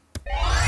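A single punchy kick drum from the 'Attack kick' percussive preset of the FM8 synth: a sharp transient, then a sustained, bright, resonant tone that holds to the end.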